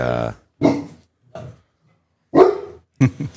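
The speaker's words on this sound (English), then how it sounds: "guard dog." A guard dog barks a few times in short bursts, fairly close, with pauses between the barks and some talk nearby.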